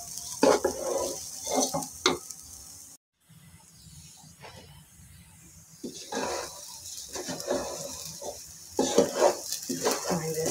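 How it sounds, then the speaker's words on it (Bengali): Rice being stir-fried in a pan with ghee for biryani, quiet sizzling broken by repeated scraping stirs of a spoon against the pan, with a brief silent gap. "চালটা আমার ভাজা হয়ে গেল।"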